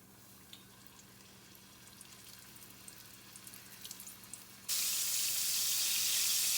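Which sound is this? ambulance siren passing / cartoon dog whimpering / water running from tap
water running from tap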